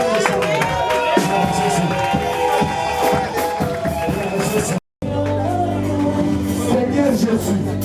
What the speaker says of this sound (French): Applaudis le Seigneur